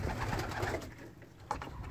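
Pigeons coo from a loft as its exits are opened for them to fly out, a soft, continuous murmuring of several birds nearby with a faint rustle.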